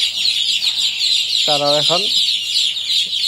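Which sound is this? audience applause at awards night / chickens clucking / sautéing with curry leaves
chickens clucking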